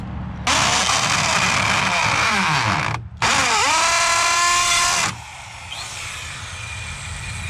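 A power drill drives small concrete screws while laying block, two loud, sustained whirring bursts with a short pause between them, the motor pitch sliding as the screw bites, then stopping to quiet background.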